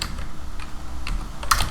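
Someone types an Excel formula on a computer keyboard, producing a rapid run of light clicking keystrokes, close and steady, with no voices.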